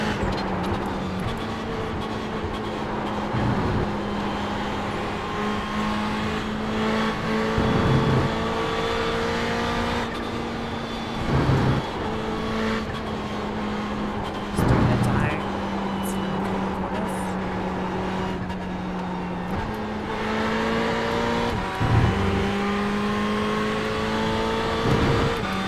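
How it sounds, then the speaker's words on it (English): A Ferrari 488 GT3 race car laps Le Mans in the iRacing game, its engine droning loudly and continuously through long high-rev pulls punctuated by sharp gear shifts and brief throttle blips every few seconds. "driving a GT3 Ferrari at Le Mans on the final lap"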